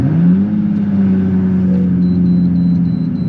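A 1998 Lamborghini Diablo SV on a mountain road gives a loud, close engine rev. It climbs in pitch, then holds a steady droning growl for a few seconds, with no voices.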